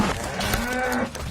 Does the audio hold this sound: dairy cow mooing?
yes